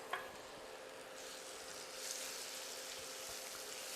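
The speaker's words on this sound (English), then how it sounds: "I'm going to throw in my onions. And I'm going to start to saute these down as well." Onions sautéing in a pan for mutton xacutti give off a soft, steady sizzle that swells slightly after a brief clatter at the start, quiet and close with no talking.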